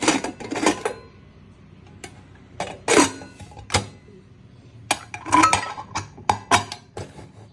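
A metal pressure cooker lid is fitted and closed, producing several clinks and clanks in uneven bursts with quiet pauses between them.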